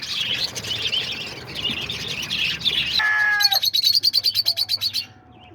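Peach-faced lovebirds in cages chatter in a continuous high twittering, then one bird gives a sharp squawk and a rapid run of about a dozen loud, close, rhythmic chirps before falling quiet.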